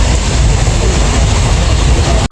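Inside a moving passenger train, a loud, dense rumble of wheels and carriage noise fills the space steadily, close and continuous, with no clear speech.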